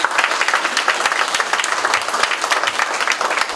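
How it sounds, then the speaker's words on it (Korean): Dense, steady applause from a seminar audience at a district policy forum, loud and continuous with no voices over it. "우리 중구 청장님 큰 박수 한번 좀 부탁드리겠습니다"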